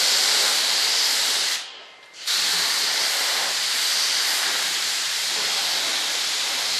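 Mold release is sprayed in a light coat onto a mold for an RC F-105 Thunderchief jet model: a loud, close aerosol hiss, briefly cut off before a second longer burst, with no talking.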